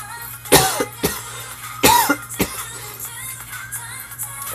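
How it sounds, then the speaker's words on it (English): Several sharp coughs close to the microphone, two strong bursts followed by smaller ones, with quiet background hum between them. "Sorry about all the coughing."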